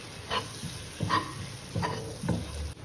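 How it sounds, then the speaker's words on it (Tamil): Maida flour roasting in melted butter in a pan, stirred with a few steady scraping strokes at about one-second intervals under a soft sizzle, close and moderately quiet, with no talking. "இப்போ மைதாவை இதில் போட்டு அப்படியே ரோஸ்ட் பண்ணிக்கணும்"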